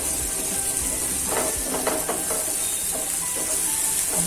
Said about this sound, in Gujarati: હવે ટ્રાન્સપરન્સ થઈ ગઈ છે તેમાં આપણે આદુ લસણની પેસ્ટ પહેલાં ઉમેરી દેશું બને સાંકળી લેશું